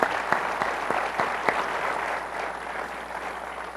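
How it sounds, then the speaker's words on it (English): Steady applause from a seated audience at a conversation event, a dense wash of many clapping hands with a few sharper claps early on, holding fairly loud before easing slightly. "let's give Jadeveon Clowney a little love, some applause"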